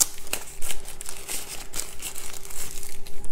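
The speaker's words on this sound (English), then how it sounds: "let's unwrap it." Packaging for a DJI Air 2S drone bundle crinkles and rustles close by as it is unwrapped, in quick irregular bursts of plastic and paper handling.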